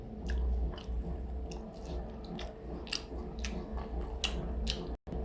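Close chewing while eating a meal of small shrimp curry cooked with taro, soft wet mouth sounds and light bites repeating irregularly over a low steady background hum, no talking.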